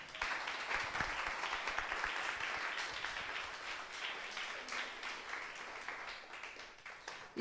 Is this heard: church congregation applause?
yes